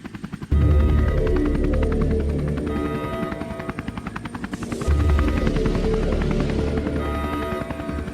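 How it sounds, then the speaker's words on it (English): An attack drone in the Neofeud video game: a loud, continuous rotor-like thrum with rapid chopping pulses, starting abruptly and swelling again midway as it hovers close. "That's the Coke Jobs attack drone that hit us at the Capitol."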